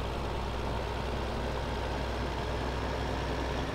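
A Deutz tractor engine idles in Farming Simulator 2015, giving a steady low diesel rumble that holds constant and unbroken, moderately loud, with no voices.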